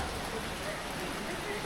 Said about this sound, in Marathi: बघू शकता पाऊस सुरू झाला इथे